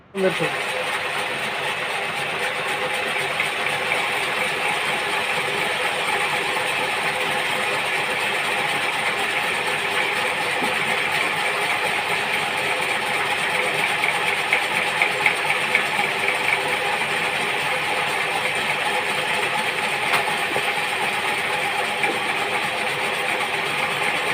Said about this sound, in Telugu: ముందు దారాల మిషన్ అనేది ఎలా వర్క్ అవుతుందో స్క్రీన్ మీద చూసేయండి